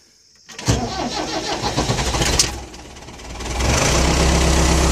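A Tiger brushcutter tractor's engine cranks briefly with rhythmic starter chugging, then catches and settles into a steady, loud idle, close by with no talk.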